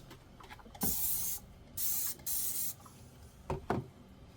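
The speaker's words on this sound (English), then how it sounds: "I love the spray foam soap." Power Wash foam dish soap sprayed onto silverware, three sharp hissing bursts of about half a second each, close and crisp, between light clinks of metal.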